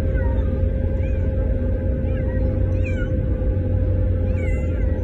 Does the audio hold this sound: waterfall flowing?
no